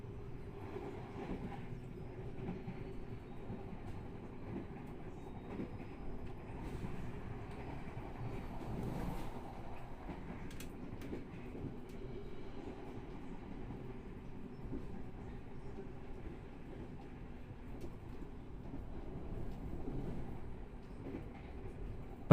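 Blambangan Express passenger train riding double-track rails along the Java Sea coast, heard from inside the carriage as a steady low rumble with faint rhythmic wheel clatter, quiet and continuous with no voices.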